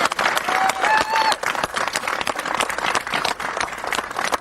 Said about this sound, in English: A round of applause for Kath